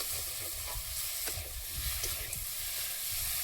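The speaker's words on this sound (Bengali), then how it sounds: "এই তো কষানো হচ্ছে" Pangas fish and potatoes sauté in a pan with ground spice paste, giving a steady, close sizzle with soft stirring scrapes throughout and no voices.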